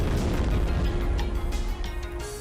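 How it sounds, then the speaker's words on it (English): An explosion in Shadow Warrior rolls out as a loud, dense low rumble that fills the opening and slowly decays over about two seconds, with crackling debris on top. "this better be a cool explosion"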